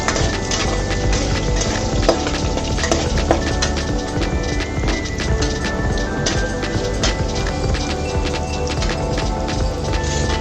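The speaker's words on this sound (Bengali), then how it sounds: "আলুটা আমার ভাজা হয়ে গেছে" Potatoes seasoned with a pinch of turmeric and salt fry in a pan, giving a loud, steady crackling sizzle that runs unbroken throughout with no talk.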